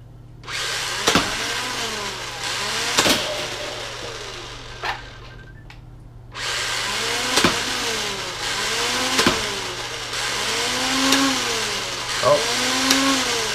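A NewBright R/C Blaster Mech Rival Terrascout firing mechanism whirs in long motor runs, broken by sharp clicks and a short pause, loud and close.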